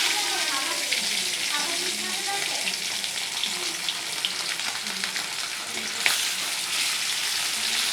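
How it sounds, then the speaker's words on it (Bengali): Small hilsa fish, seasoned with salt and turmeric, go into hot oil that has been salted, giving a loud, steady sizzle with crackling bursts and occasional stirring clinks close by. "এবার আস্তে করে নুন হলুদ মাছে রাখা মাছগুলো দিয়ে দিচ্ছি"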